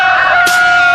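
A voice imitates a rooster's cock-a-doodle-doo in one short, loud, close crowing call.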